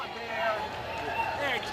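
A crowd at the Westminster Kennel Club Dog Show's Masters Agility Championship cheers as a fan-favorite Chinese Crested in the 8-inch category takes the course, a steady, fairly loud swell of cheering and babble with a few brief peaks.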